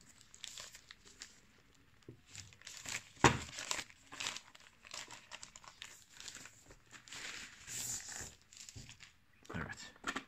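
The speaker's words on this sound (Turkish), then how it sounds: "Şöyle kutuyu kenara koyup cihazı çıkartalım ambalajından." A Xiaomi Mi Smart Scale 2 is pulled out of its plastic packaging. Close, intermittent crinkling and rustling of plastic bursts come in short clusters, with a voice speaking at times.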